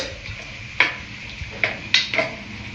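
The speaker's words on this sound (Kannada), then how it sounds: "ಸ್ವಲ್ಪ ಹೊತ್ತು ಫ್ರೈ ಆಗಬೇಕು. ಸ್ವಲ್ಪ ಫ್ರೈ ಆಗಲಿ" Vegetable filling for a chapathi veg roll frying in a pan, a soft steady sizzle with a few sharp scrapes and clinks of a spoon stirring against the metal, close and fairly quiet.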